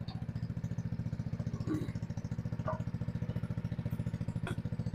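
An RPS ATV150 sport ATV's small engine runs at a steady, fast-pulsing idle after warming up, close and even, with a few light metallic clinks on top.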